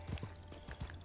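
Horse hooves clip-clop in the Red Dead Redemption II video game, about four or five evenly spaced hoof strikes at a steady walking rhythm, fairly close and moderately loud.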